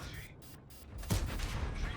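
A tank cannon shot from the armored combat game World of Tanks Frontline, one sharp, heavy blast about halfway through, sitting low in a quiet in-game mix.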